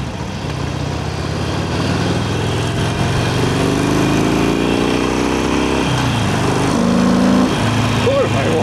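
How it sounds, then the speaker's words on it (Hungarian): A 2009 Harley-Davidson Sportster Iron fitted with a legal exhaust runs steadily and loudly at close range, a continuous engine drone with a slight rise in pitch toward the end. "Egy legális kipufogójú motorral megyek."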